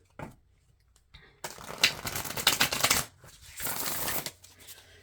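Two bursts of tarot cards being riffled and shuffled, close up, with brief quiet gaps and softer handling noise in between.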